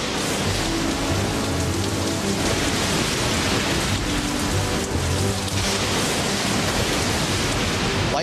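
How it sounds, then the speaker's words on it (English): A rainstorm pours down in a heavy, unbroken roar throughout a night building site during the construction of the KLCC towers, with possible low thunder rumbling beneath the dense hiss. "Storm came back."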